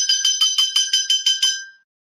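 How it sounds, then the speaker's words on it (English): A hand bell rung in a quick, steady series of about nine bright metallic strikes, close and loud, ending with a short ringing decay into silence. "Ring the bell."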